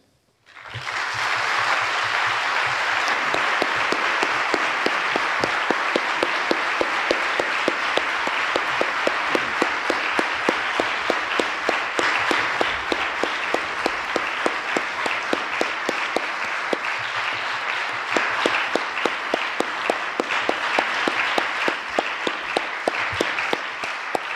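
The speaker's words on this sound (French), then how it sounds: "Vos applaudissements en sont un et se suffisent à eux-mêmes." An audience in a French lecture hall applauds at length after a talk, a dense, loud and sustained wash of many hands clapping that runs evenly for about twenty seconds.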